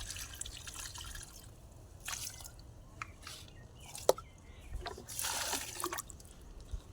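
Nutrient solution poured onto potted plants gives soft intermittent trickles and drips, faint and close, with one sharper splash partway through and a fuller pouring rush near the end.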